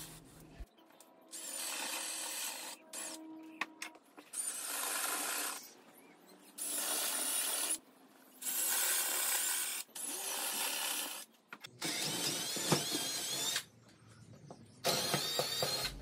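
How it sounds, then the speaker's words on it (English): A drill countersinks bolt holes in the corners of laminated wooden boards for a flip top bench cart, several separate grinding bursts of a few seconds each with short pauses between them. "Here I'm countersinking the four corners to allow the bolt head and nut to sit flush"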